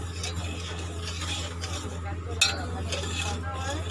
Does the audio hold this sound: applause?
no